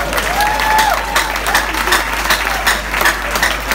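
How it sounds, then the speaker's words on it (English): Wedding guests at a gospel singer's live wedding clap in a steady, moderately loud patter, with a few scattered louder claps and a faint tone running underneath. "Now clap one more time."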